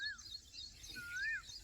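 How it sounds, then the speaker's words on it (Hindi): Two faint rising, whistling bird calls sound outdoors over farm fields, with short high chirps scattered between them in otherwise quiet surroundings. "हालांकि मोर और कोयल बोल रही हैं।"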